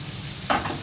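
Garlic and ginger fry briefly with softening onions in a pan for a paneer and peas masala, giving a close, steady sizzle with a short stirring scrape and no talk.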